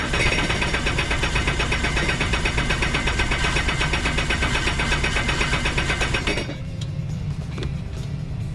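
A 2023 Sea-Doo GTX-230 personal watercraft engine turns over on the starter with the throttle held so it won't fire, a loud, steady mechanical whirring churn lasting about six seconds before cutting off into quieter background noise.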